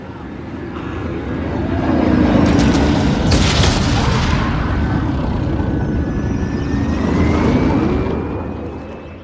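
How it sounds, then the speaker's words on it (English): Video game dropship flying in, a loud roaring, rumbling engine swell that builds over several seconds, holds with booming wash, then fades slightly, alone without talk. "We got a dropship coming in."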